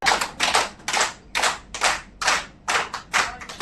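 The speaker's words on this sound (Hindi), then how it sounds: "ये सब ताली हमने अपने लिए बजाई।" A room of teachers at a training workshop in a hotel claps together in sharp, synchronized bursts, loud and close, with a rhythmic cheer-style pattern.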